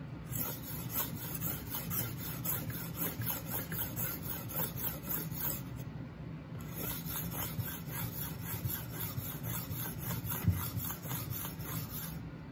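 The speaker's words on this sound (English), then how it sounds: "I'm just gonna do 20 more on each side, give it a good solid 50 number." A knife blade is drawn across the abrasive of a Work Sharp guided sharpening system in steady repeated strokes, a soft close rasping rhythm that pauses briefly midway.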